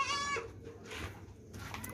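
A frightened goat at a livestock market gives a loud bleat at the start, followed by fainter calls and rustling in a noisy outdoor setting.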